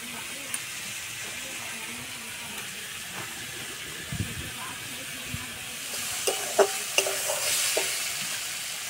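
Potatoes and carrots fry gently in a pan, making a soft, even sizzle, with a few scrapes and light clatters of utensils toward the end.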